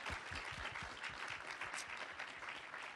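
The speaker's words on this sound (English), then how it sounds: "Let's give him a round of applause" An audience at a government Pride summit gives a round of applause, a continuous dense patter of many clapping hands that stays steady and moderately loud for the whole stretch.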